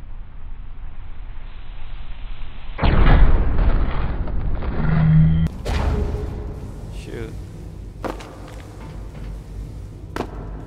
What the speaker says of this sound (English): I landed right in, into that missile, man.